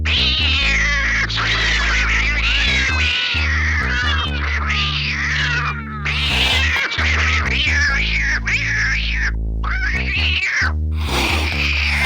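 Cats meow and caterwaul in animated film scenes, loud drawn-out wails and cries over a layered musical soundtrack, with brief pauses between bursts.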